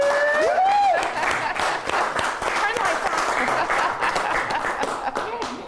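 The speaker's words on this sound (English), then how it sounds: "I want to applaud Dennis and Steve and Aaron" Audience applause at a charity telethon, lively clapping with a few cheers and chuckles from the crowd, a rising whistle-like voice at the start, and people talking over the clapping as it gradually fades.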